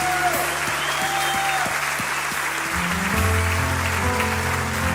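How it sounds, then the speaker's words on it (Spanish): A church congregation applauds loudly and steadily, a dense wash of clapping that holds throughout, with musical tones underneath. "Vamos, dale fuerte el aplauso a Jesús."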